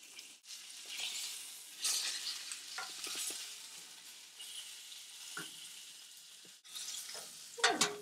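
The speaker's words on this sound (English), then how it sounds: "Gonna quickly sear the ends." Pork sizzles steadily as it sears in a hot pan, a continuous crackling hiss broken by a short gap and punctuated by a few scraping, stirring sounds, louder near the end.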